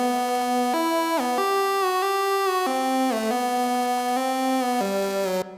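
Gliding synth lead melody built in Serum for a cinematic trap beat, bright harmonic notes that slide between pitches in a steady phrase, played alone without talking.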